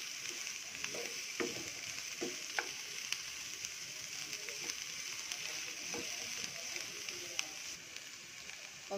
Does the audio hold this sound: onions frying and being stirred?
yes